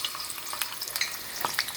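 Pre-cooked food frying in hot grease, a soft, steady crackle with scattered sharper pops, close and moderately quiet, no talking.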